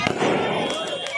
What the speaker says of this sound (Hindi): पटाखे फूटे हैं जैसे कि आप देख सकते हैं